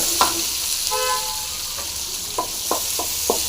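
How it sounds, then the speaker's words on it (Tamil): Onions sizzle in hot oil with mustard seeds and crushed garlic for a bitter gourd gravy, a soft steady fry broken by several sharp spoon taps against the pan and a brief tonal beep early on. "வெங்காயம் போட்டுடலாம் போட்டு நல்லா ஃப்ரை ஆகட்டும்"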